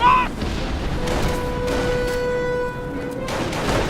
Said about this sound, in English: We are running into a firefight.